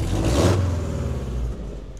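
A tuned car engine revs loudly at close range with a rising whir and rumble, then settles back into a steady idle.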